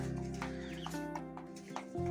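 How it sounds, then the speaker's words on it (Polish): A broody mother hen clucks in short, repeated bursts close by, with a low steady background hum throughout. "No i to jest kwoczka, ich mama."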